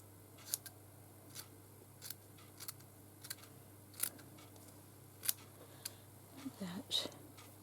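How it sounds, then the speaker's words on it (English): Scissors snip a piece of paper off while making a handmade journal, several quiet separate cuts spread across the moment over a low steady hum, with faint rustling near the end. "I'm just going to cut the piece off and see what I can do"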